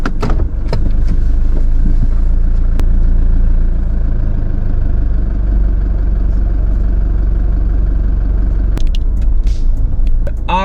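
A car cruises along an outback road with a tyre rubbing problem, a loud, steady low engine and road rumble heard close from inside the cabin, with a few faint clicks and knocks.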